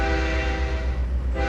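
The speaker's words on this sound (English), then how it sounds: "Oh, the horn sounds different on this side" A locomotive horn in the Trainz 2022 rail simulator blares loud and steady, with strong harmonic tones that hold for the full stretch and dip only briefly near the end, rumbling over a low engine drone.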